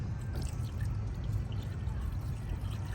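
Water is poured steadily into the radiator of an overheating Range Rover, a close, continuous gurgling pour over a low rumble with no voices.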